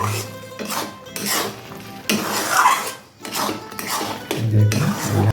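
A spoon scrapes and stirs a grated carrot mixture in a pan over low heat as it cooks down dry for langcha sweets, loud and close with repeated rhythmic strokes and faint sizzling.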